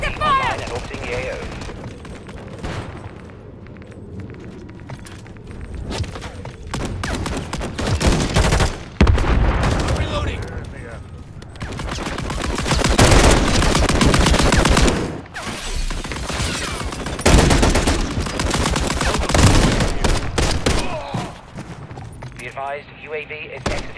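Dense, continuous gunfire from Call of Duty: Modern Warfare 3 gameplay, with bursts of automatic fire and scattered single shots overlapping throughout, loud and close, with in-game radio-style voice callouts mixed in.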